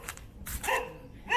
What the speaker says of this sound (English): Who the fuck you barking at?